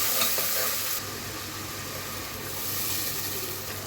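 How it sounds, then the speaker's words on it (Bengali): Ground cumin, coriander, salt and turmeric sizzle in oil in a pan while being stirred, a loud steady frying hiss that eases slightly after the first second, close up with no talking. "মশলাগুলো প্রপারলি কষিয়ে নিব প্রথমে।"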